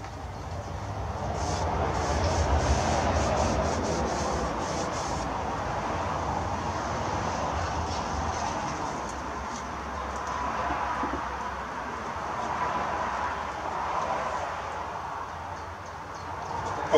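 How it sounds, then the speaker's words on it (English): Steady road traffic from a main road right beside a house, a continuous broad rumble of passing vehicles that swells and fades, distant and moderately loud, with no talk. "Apologies about the road noise."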